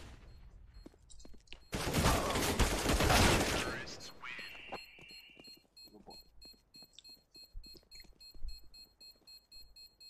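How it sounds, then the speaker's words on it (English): A flashbang grenade goes off in a multiplayer shooter game with a loud blast burst lasting about two seconds. A high ringing tone follows, then scattered footsteps and game clicks return. "Throwing flashbang."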